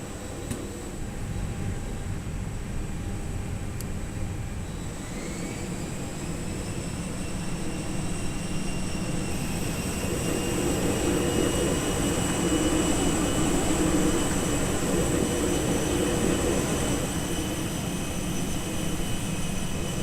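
Simulated Airbus A321 Pratt & Whitney jet engines spool up in a flight simulator soundpack, a continuous turbine roar with rising whining tones that climb in pitch midway and then hold steady, loud and sustained.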